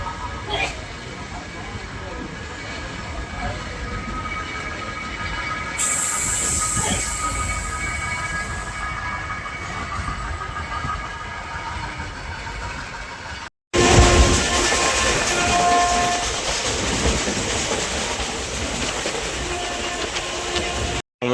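A passenger train bound for Bhavnagar rumbles steadily from inside the carriage, with continuous rolling noise and faint rhythmic clatter. The sound grows louder partway through, and the run is briefly interrupted by two short breaks.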